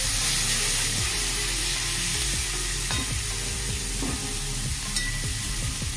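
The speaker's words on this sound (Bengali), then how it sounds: "এবার এটাকে ভালো করে ভেজে নেব যতক্ষণ না তেল ছাড়ছে।" Spice paste fries in hot oil for a gurjali fish curry, with a loud, continuous sizzle broken by soft scrapes and knocks as it is stirred. No one speaks.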